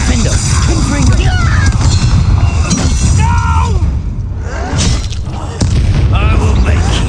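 Confringo spell blasts in Hogwarts Legacy combat, loud booming impacts and shattering bursts over a dense, continuous game soundscape of music, effects and character voices.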